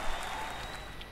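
A golf clap emote from a video game plays as a short burst of steady, soft clapping, fairly quiet and even throughout with no voices.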